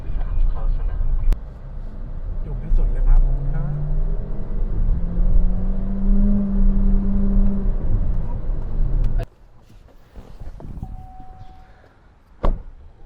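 An MG VS hybrid car accelerates from a standstill toward 100 km/h, a steady loud drone of engine and road noise building for about nine seconds before dropping to a quieter cabin hum.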